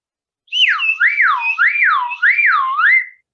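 A homemade traditional Pontic whistle blown in one sustained, loud, close blast, its pitch warbling smoothly up and down about three times in a siren-like sweep before stopping.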